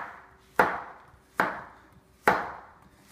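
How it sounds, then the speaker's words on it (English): Zucchini is chopped with a knife on a cutting board, four crisp, evenly spaced blade strikes, each about a second apart, close and clear with no talking. "as far as chopping the zucchini, we chop off both ends"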